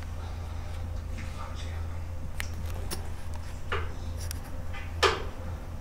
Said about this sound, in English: It's that cord Hitting off the glass.